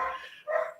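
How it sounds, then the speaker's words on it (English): A pet dog at home gives two quick, close barks, the second louder, in a short burst with no talk around it. "Well, dog's gonna bark."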